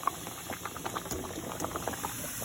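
A pot of water with whole noodles boils steadily nearby, with a constant bubbling hiss and scattered small pops and rattles.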